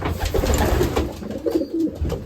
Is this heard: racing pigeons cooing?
yes